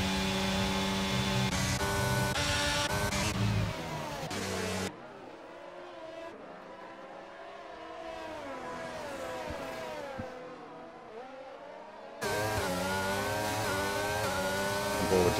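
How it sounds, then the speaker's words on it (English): Engines of racing cars lapping Silverstone in a sim racing game, a pack of several cars running nose to tail, buzzing and rising steadily with gear changes, loud throughout with a quieter stretch in the middle. "We got a 4-car train here for P7 between Sharp, Joshua, Josh Meister, and Rob"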